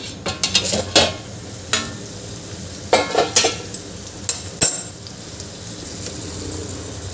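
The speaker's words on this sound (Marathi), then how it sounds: "इथे हे एकदा आपल्याला भाजी हलवून घ्यायची आहे फोड्या आणि बघून घ्यायचं आहे." A spoon clinks and scrapes through raw papaya vegetable curry in a pan with a series of sharp, irregular metallic taps over a soft background simmer, up close and without speech.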